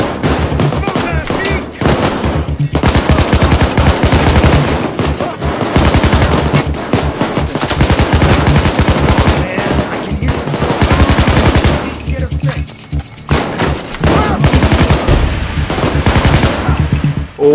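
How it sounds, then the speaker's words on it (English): Sustained automatic gunfire from a PayDay 2 heist shootout, dense rapid bursts running nearly the whole time with only brief gaps, loud and close. "I nearly shot a civilian. Oh, I did that time."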